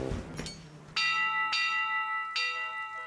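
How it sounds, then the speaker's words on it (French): A large bell rings loudly three times, each strike ringing out with a long, bright resonant tone, after a couple of softer knocks. "Oh, cette cloche résonne vraiment fort."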